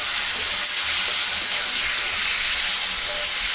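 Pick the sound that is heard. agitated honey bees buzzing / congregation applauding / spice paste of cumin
spice paste of cumin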